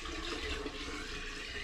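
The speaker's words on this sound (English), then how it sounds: "I'm going to dilute that with just over a litre of tap water," Just over a litre of tap water poured into an air still to dilute potato vodka spirit, a continuous close rushing, splashing stream.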